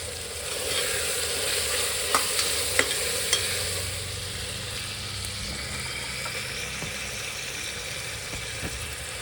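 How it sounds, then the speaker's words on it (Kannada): Tomato, onion, mint and coriander fry in oil in a pan, giving a loud, steady sizzle throughout with a few soft clicks of stirring, close and without talk. "ಆಯಿಲಲ್ಲಿ ಚೆನ್ನಾಗಿ ಟೊಮೊಟೊ, ಆನಿಯನ್ನು, ಪುದೀನ, ಕೊತ್ತಂಬರಿ ಎಲ್ಲ ನೀಟಾಗಿ ಫ್ರೈ ಆಗಬೇಕು"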